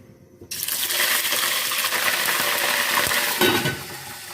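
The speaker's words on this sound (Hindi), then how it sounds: "चिकन को हम ऑयल में फ्राई कर लेते हैं।" Chicken pieces drop into hot oil in a kadai and fry with a sudden loud, steady sizzle that stays dense and close throughout, with a brief surge of crackling near the end and no talking.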